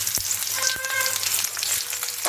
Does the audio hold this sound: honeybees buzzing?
no